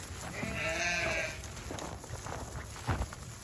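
Sheep being loaded onto a trailer give a single drawn-out bleat near the start, followed by muffled shuffling and a thump, with faint background noise.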